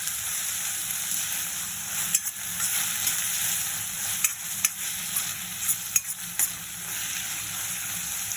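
Ginger garlic paste sizzles and fries in a pan, a steady loud hiss broken by a few sharp stirring scrapes and clicks, with no talking.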